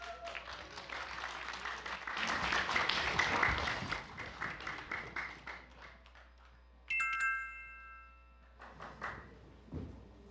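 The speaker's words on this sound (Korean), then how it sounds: "발표팀 아름고등학교 친구들을 힘찬 박수로 맞아주시기 바랍니다." An audience at a regional high school presentation contest applauds as a team is welcomed, with clapping that swells and then thins out. A brief electronic chime cuts in partway through, followed by scattered later claps.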